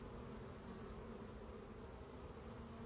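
Dense swarm of honeybees buzzing steadily and close during a hive inspection, a continuous droning hum with no voices.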